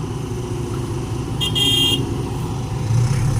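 SY135C excavator with a four-cylinder turbocharged 3,000 cc Isuzu D-Max pickup engine, idling as a steady close rumble, with a brief high-pitched tone cutting in partway through.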